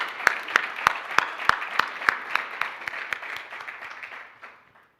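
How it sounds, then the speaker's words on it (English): An audience at a book launch gives a speaker a round of applause. Sharp, evenly spaced claps ring out at first, then blur into a wash of clapping that fades away over several seconds. "let's once again give a resounding round of applause to Professor Maluleke."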